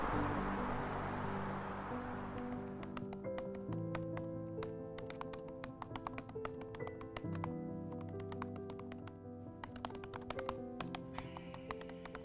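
Rapid, uneven clicking of typing on a computer keyboard plays over a soft sustained musical background, fairly quiet and continuous.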